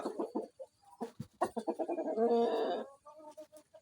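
A big Bahama rooster at an agro farm in Ullapara, Sirajganj, clucks nearby in quick choppy bursts, with a drawn-out call in the middle and softer clucks after.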